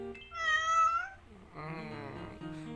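A cat in a Japanese learning video game meows twice in quick succession, a clear high first meow followed by a lower, longer one, with no talking.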